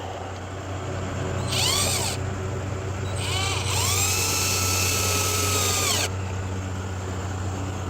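Power drill whirring in short bursts as it drives screws into a headlight clip on a 2015 Chevy Malibu, a brief spin-up followed by a longer run that winds down, over a low steady background hum.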